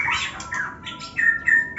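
An oriental magpie-robin calls loudly and close by, giving several bright whistled phrases and squawky notes in a broken rhythm over a low background hum.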